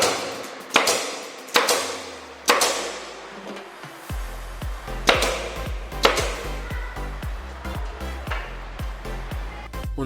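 Nails being hammered into camphor wood wall paneling inside a mosque, a few sharp, ringing hammer blows at first, then a quicker series of lighter taps over a low steady hum, close by.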